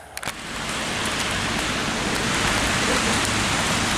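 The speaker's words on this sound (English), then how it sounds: "Okay, so it's raining." Steady rain pattering down, a dense continuous hiss that swells slightly after a few faint ticks at the start.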